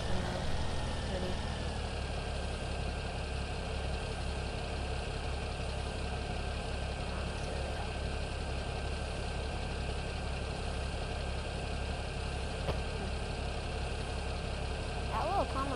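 A mower engine in the video game Farming Simulator 17 drones at a steady idle for the whole stretch, a constant mid-pitched hum with a faint tonal whine over it and no change in speed.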